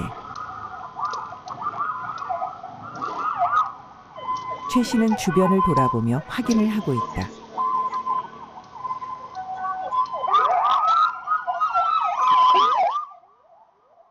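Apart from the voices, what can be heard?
ambulance siren nearby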